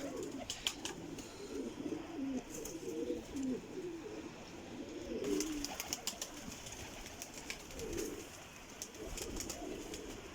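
Several Kasuri pigeons coo in low, throaty bursts at intervals, with scattered sharp clicks and a steady faint background hiss.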